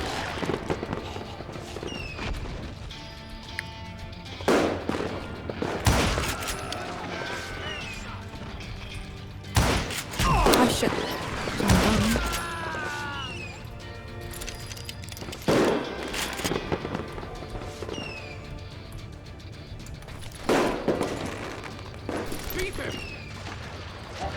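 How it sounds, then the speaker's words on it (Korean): Fireworks bursting in the Western shooter game Call of Juarez: Gunslinger, a series of loud cracking bangs and crackles in irregular clusters, interspersed with someone talking. "아니 폭죽은 왜 폭죽은 왜?"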